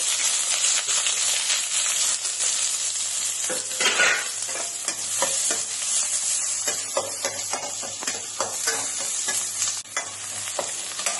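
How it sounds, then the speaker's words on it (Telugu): Onions added to hot oil with popped mustard seeds in a tempering sizzle loudly up close, while repeated spatula stirring strokes scrape through the pan in an irregular rhythm. "ఆవాలు వేగిన తర్వాత ఎర్రగడ్డలు వేసుకోవాలి."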